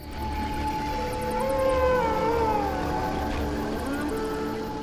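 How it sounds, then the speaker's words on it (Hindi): Wolves howl in the wild at night, several long wavering tones that rise and fall and overlap, sustained under a steady low rumble of background noise, with no voices. "यहाँ बहुत सारे भेड़िया हैं।"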